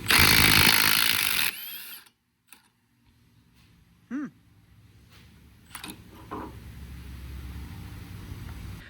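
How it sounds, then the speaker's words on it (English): A Milwaukee Gen 2 3/8-inch stubby impact wrench with an adapter hammers loudly on an untouched CV axle nut for about a second and a half. Quieter clinks, rattles and a short squeak follow. "CV axle nut, not been touched. Gen 2, 3/8 Stubby with an adapter. As you can see how it does."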